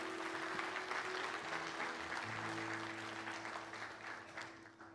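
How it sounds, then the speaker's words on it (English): A congregation applauds its church nursery workers, sustained clapping from a crowd indoors with a steady hum running underneath and no speech. "Give our nursery workers a big round of applause"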